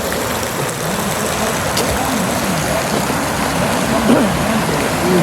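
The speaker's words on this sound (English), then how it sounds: "Huge waterfall." A huge waterfall at Skipton Castle Woods roars as a loud, constant, broadband rush of falling water that fills the whole scene, with faint voices underneath.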